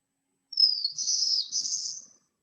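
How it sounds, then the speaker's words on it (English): One black-throated blue warbler song: a high, buzzy three-part phrase that rises in steps, heard clearly and alone against silence, lasting under two seconds. "Here's another version of it."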